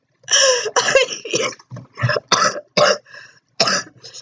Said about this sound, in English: I'm starting to have coughing spasms now.